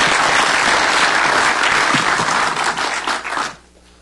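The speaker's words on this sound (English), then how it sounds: "So round of applause for everyone who helped" An audience at a 2009 municipal-networks conference session applauds helpers and volunteers in a dense, loud wash of clapping that tapers off and stops abruptly near the end.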